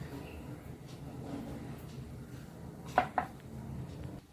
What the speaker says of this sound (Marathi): आता कुकरचं झाकण लावून घेऊया